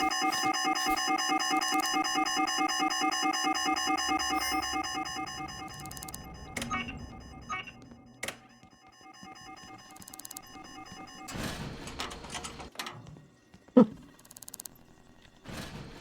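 A pulsing electronic alarm in the video game Shadows of Doubt rings steadily for about six seconds, then cuts off, leaving scattered clicks, thumps and a brief louder knock near the end.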